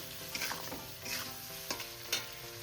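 Spice paste with ground mung dal, ginger and green chilli sizzling in a pan while being stirred for Bengali cabbage kofta, a steady close frying hiss with soft scraping strokes of the spoon.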